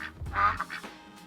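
A goose honking in a couple of short, nasal, close-up blasts with nothing else around it.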